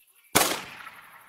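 A single loud gunshot fires in a video game: a sharp crack that cuts in abruptly and fades into a lingering reverberant tail.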